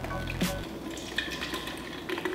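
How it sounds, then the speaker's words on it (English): Mixed Starbucks secret menu drinks poured into a bucket, a short splashing gush of liquid at the start followed by a few trickles and drips. "Just pour it like this."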